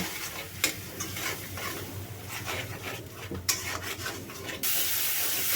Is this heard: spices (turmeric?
yes